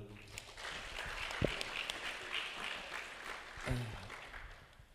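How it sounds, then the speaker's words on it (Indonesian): Applause from the audience at a Remaja Islam Masjid Agung Jawa Tengah anniversary gathering in a hall, soft and fairly distant clapping that holds steady, with a couple of sharp knocks and some voices mixed in. "Kita kasih tepuk tangan dulu."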